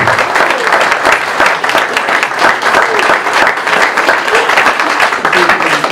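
An audience at the mayor's New Year ceremony in La Croix-Helléan claps loudly and continuously, a thick, close patter of many hands that carries on without a break.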